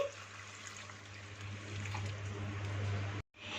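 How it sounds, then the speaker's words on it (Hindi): About a litre of water is poured steadily into a pot of white mutton biryani base with fried garlic-ginger paste, a close, continuous rushing pour that cuts off abruptly near the end. "इसमें 1 लीटर पानी शामिल कर देंगे।"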